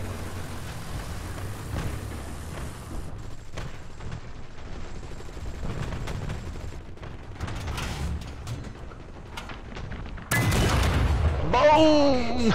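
A tank cannon firing in War Thunder realistic battles with Russian tanks such as the SU-122 and KV-1 L-11, heard among clattering mechanical noise and distant gunfire, with a loud, sharp blast near the end.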